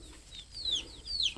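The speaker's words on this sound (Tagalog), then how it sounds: "isang tandang, isang inahin, at saka po 4 na sisiw" Chickens kept in the space beneath a bamboo hut on a farm, a rooster, a hen and four chicks, give a few faint, short clucks and thin rising peeps over quiet background hiss.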